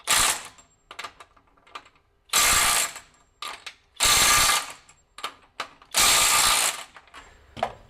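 A Flex 24V compact impact wrench hammers on bolts in several loud bursts of rapid clattering impacts, each about a second long, separated by short quiet gaps and lighter mechanical clicks.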